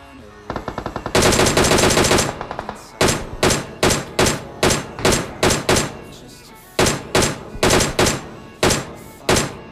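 M416 rifle gunfire in PUBG Mobile, a long continuous spray, then a string of short rapid bursts with brief gaps, loud and close, with no talk.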